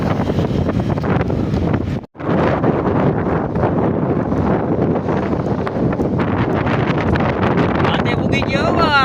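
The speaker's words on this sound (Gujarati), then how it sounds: "કેમ છે પવન નો અવાજ" Strong wind buffets the microphone on an empty beach promenade in the early morning, a loud continuous roar with a brief dropout near the start and faint voices underneath.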